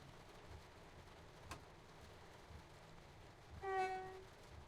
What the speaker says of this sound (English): a single blast of the horn just gives people a chance to go